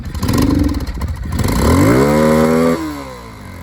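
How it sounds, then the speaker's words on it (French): A Rieju MRT 125 supermoto engine burbles, then revs hard to a high-pitched, rising scream before the throttle drops off sharply, all close and loud. "Cependant le moteur se révèle rageur en haut régime."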